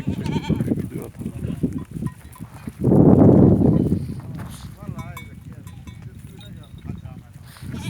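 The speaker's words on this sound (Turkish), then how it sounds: "Bura keçi sürüsü." A herd of goats bleats amid shuffling, bell clanks and nearby chatter, with a louder burst of bleating in the middle.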